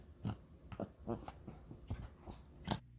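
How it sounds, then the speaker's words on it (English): A dog named Dobby barks indoors in a string of short, sharp yaps, about half a dozen spaced irregularly, fairly close but modest in level, with no one speaking over them. "Dobby is barking because I'm talking."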